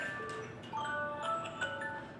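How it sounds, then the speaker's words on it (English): A phone alarm goes off close by, playing a bright, repeating melodic chime pattern of short tones that ring out over a quiet room for a couple of seconds. "Hold on one second, that's my alarm."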